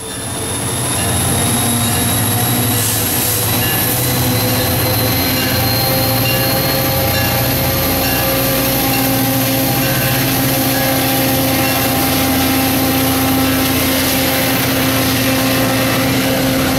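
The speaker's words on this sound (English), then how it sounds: "we'll watch New Jersey Transit and Metro North diesel locomotives handling passenger trains through the station" New Jersey Transit and Metro North diesel locomotives haul passenger trains through a North Jersey station, engines droning loudly with sustained wheel squeal and rail rumble, heard close and continuous with no speech.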